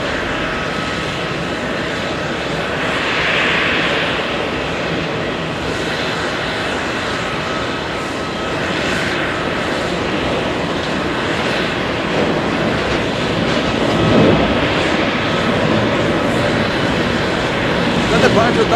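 A Delta jet departs JFK for San Francisco, its engine roar rising and falling at a moderate distance, swelling louder toward the end, with talk over the top.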